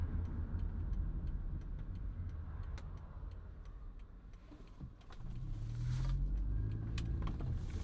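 On an open country road during a storm chase, a car comes over a hill and races past. Its engine swells from faint to close and loud in the final seconds over a steady low rumble and light ticking.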